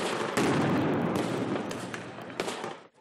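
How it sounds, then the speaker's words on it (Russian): Loud, booming real explosions in buildings at a reenactment of a 1944 battle near Lviv, crackling blasts rolling in close succession amid blank gunfire, sharp bursts cutting through a continuous rumbling roar. "Патроны холостые, а вот взрывы в зданиях реальные"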